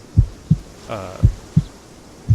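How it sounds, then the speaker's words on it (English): A heartbeat pounding effect from the ACE Advanced Medical video game thuds in heavy, low double-beats at a steady rhythm, with a brief tonal swell in between. "heartbeat pounding"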